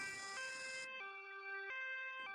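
Cartoon ambulance siren in a Hindi children's story, a clean electronic two-tone wail stepping between high and low pitches in a steady alternating pattern, loud and alone with no talking.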